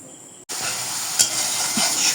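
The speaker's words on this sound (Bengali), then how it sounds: "এখন ভালো করে কষিয়ে নিব।" Spices sautéing in oil for a raw jackfruit curry: a steady close sizzle and hiss begins abruptly after a brief pause, with occasional stirring clinks against the pan.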